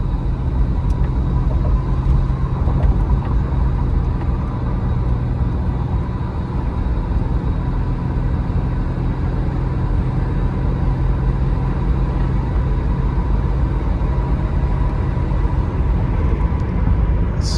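A 1987 Buick Grand National cruises at highway speed, its engine and road rumble forming a loud, steady low drone heard from inside the cabin, unbroken and without talk.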